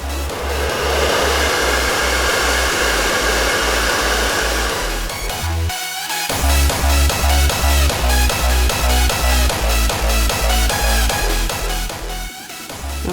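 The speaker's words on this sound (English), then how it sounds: "you're going to take your blow dryer and lightly blow dry the gel" A blow dryer runs loud and steady at close range, drying gel on a lace frontal wig, its whooshing airflow pulsing with rhythmic fluttering and briefly cutting out around the middle before resuming.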